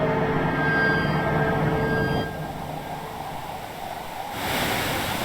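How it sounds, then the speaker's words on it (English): Sea waves and breeze in the video game The Orchard of Stray Sheep: a continuous soft wash of surf with faint tonal music fading out midway, then a brighter swell of foam near the end. "Amongst the sounds of the waves and the breeze that she loved"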